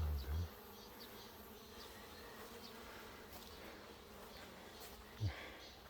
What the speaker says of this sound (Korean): 이 토봉을 쫓이고서 양봉에 들어앉았으니 이거 어떡하나